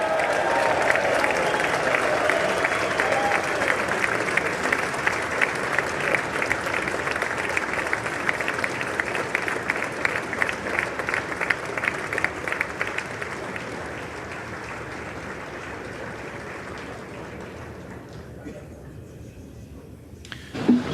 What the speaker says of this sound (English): Let's just go and hear the applause.